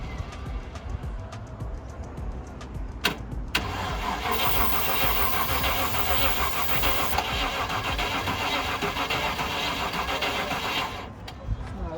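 A Land Rover Discovery 1 engine cranks on its starter in a long, steady, loud churning run that fails to catch, with brief bursts before and a short pause near the end.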